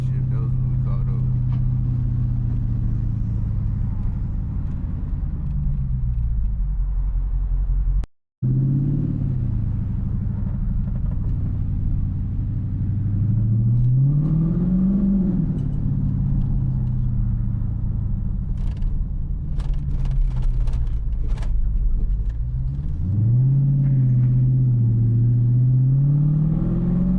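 A Chrysler 300 engine rumbles deeply and continuously, close and loud, with revs rising and falling in two distinct blips as the car downshifts.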